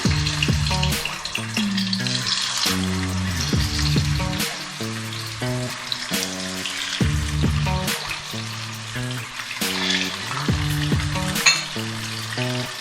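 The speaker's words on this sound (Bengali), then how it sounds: "এবার আমি মাছগুলো আস্তে আস্তে তেলের মধ্যে দিয়ে দিলাম।" Katla fish sizzles and crackles steadily in hot oil, a loud, continuous frying hiss with a melodic tune playing underneath.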